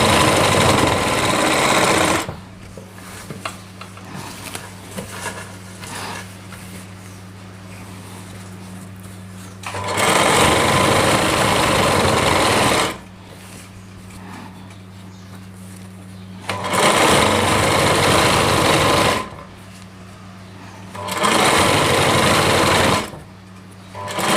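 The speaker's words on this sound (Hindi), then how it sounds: "इस तरीके से ये मैंने एक सिलाई लगा दी है।" A sewing machine stitches lehenga fabric with lining in several loud, sustained bursts, each separated by quieter pauses.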